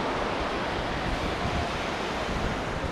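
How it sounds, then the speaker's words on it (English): Ocean waves wash onto a beach in Indonesia, a continuous broadband roar of surf with some wind noise, steady and fairly close, with no voices. "Those waves look nice."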